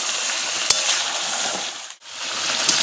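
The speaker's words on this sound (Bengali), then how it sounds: "এখন আমি আর একটু নাড়াচাড়া করে ভালো করে কষিয়ে নেব" Chicken pieces being stirred and fried down in their own released oil in a pan, a steady broadband sizzle with a sharp scrape near the start and a brief dip before the frying hiss returns.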